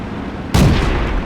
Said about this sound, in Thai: เดี๋ยวลองยิงอัดบ้านดิ